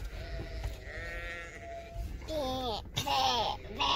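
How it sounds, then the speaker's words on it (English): Lambs bleating loudly on an Irish farm by Gleniff Horseshoe Drive, several wavering high calls overlapping close by, with a child babbling softly in the background. "Look at the lambs. Ooh, they're very loud"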